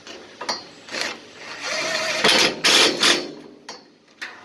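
Bolts are ratcheted home under the gas tank of a Predator generator, with loud close clicking bursts and mechanical rattles that run together over a few seconds.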